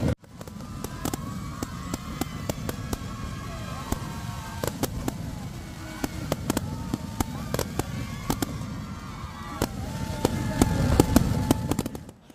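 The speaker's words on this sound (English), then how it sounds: "firecrackers lit up the night sky in Ranchi" Firecrackers bursting over Ranchi during a night celebration of the Indian women's hockey team's Asian Champions Trophy title, a dense run of sharp cracks and pops throughout with a steady crowd roar and chatter underneath.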